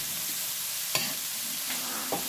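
Amaranth leaves with jackfruit seeds are stirred in a pan, giving a soft steady sizzle with a few scraping strokes of the spoon, close and alone.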